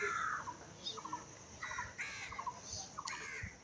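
Several crows caw in short harsh bursts over a busy outdoor background, calls coming repeatedly and fairly close while the birds are fed in the morning.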